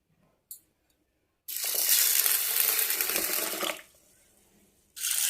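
Soaked rice and lentils being washed in water for dosa batter. After a small clink, water pours and swishes loudly for about two seconds, then falls quiet, and a fresh splash starts at the end.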